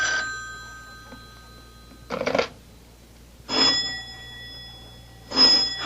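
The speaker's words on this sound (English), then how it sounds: "Do something about that confounded phone" An old bell telephone rings in a 1975 radio mystery drama, with several separate bursts of bright metallic ringing and quiet gaps between them, close and clear with no talk.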